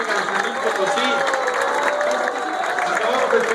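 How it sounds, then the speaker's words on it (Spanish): Audience applause and cheering for the San Luis Potosí Symphony Orchestra at an outdoor concert outside a government palace, a loud dense crowd clapping steadily with voices mixed in. "Fuerte el aplauso a la Orquesta Sinfónica de San Luis Potosí"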